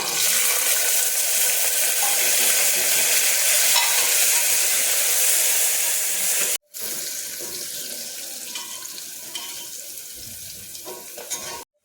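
Whole spices (asafoetida, mustard seeds, cumin, sesame, chilli, curry leaves, cloves, pepper, caraway) sizzle steadily in hot oil for masale bhat, a continuous loud hiss that breaks off briefly near the middle and then resumes.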